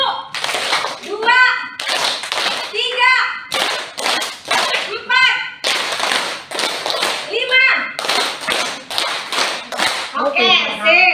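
Children clap their hands in a counting game at a learning-community workshop, bursts of quick rhythmic claps repeating in groups with short pauses between, while a voice counts aloud between rounds.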